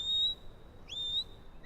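A shepherd gives sheepdog commands with shrill, piercing whistles: two long steady notes, each ending in a quick upward flick, and another short rising whistle at the end, heard clearly over faint background noise.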